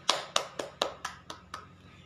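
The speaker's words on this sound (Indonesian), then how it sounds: "Beri tepuk tangan dulu." A classroom of fourth-grade students applauds a classmate's presentation with about seven sharp clap bursts at a steady, slowing rhythm, close and fairly loud with no talking.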